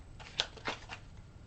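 Tarot cards being shuffled by hand, heard as a few quick, soft papery riffles close by over about a second, with no talking.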